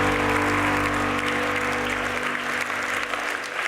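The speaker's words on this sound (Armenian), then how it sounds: "Ծափարություններով այստեղ են գրավիրում Աննային։" Audience applause greets contestant Anna Hakobyan as she comes on stage at a live comedy show: dense, steady clapping fills the room for several seconds, with a low sustained hum underneath.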